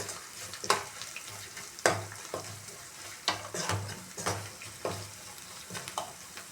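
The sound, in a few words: stirring boiled potatoes with salt in a pan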